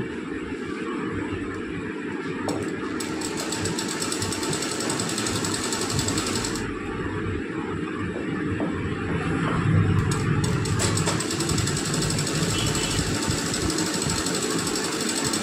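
A sewing machine stitches a blouse, running continuously for the full stretch with a steady mechanical drone and rattle, close and fairly loud, with no talking.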